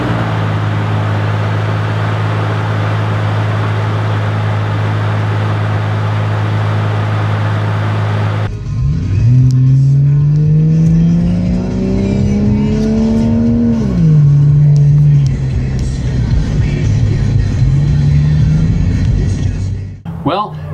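A 2007 Chevy Trailblazer fitted with a K&N cold air intake cranks over after a steady idle-like drone, catches, and rises through loud close revs before settling back to idle, the engine alone without talk.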